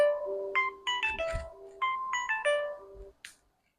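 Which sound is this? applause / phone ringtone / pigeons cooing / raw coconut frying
phone ringtone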